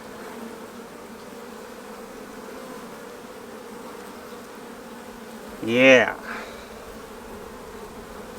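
Honey bees at an open hive during a frame inspection give a steady low buzzing hum throughout, with a short louder swell near the end as bees pass close by; someone speaks briefly.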